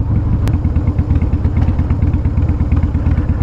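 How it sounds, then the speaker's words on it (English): A Harley-Davidson CVO Wide Glide Switchblade motorcycle runs with a loud, close, lumpy rhythmic engine beat that pulses evenly throughout, with a single sharp click near the start. "Now you might hear this bike sounding odd to some of you"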